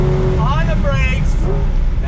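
A 2020 Ford Shelby GT500 slows on the brakes and downshifts, its engine blipping and rumbling in short rising bursts close by, under someone talking throughout.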